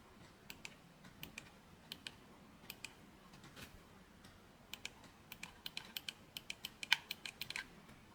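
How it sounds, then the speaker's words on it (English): D-pad buttons on a Gamesir Cyclone 2 game controller clicking, a string of quiet, crisp, irregular clicks that start sparse and become denser toward the end, close up with no talking. "So let's start with how the buttons sound."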